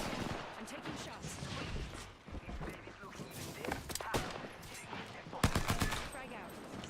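Rapid bursts of game gunfire crackle in a tactical shooter match, sharp repeated shots scattered unevenly through the stretch and mixed with players talking over them.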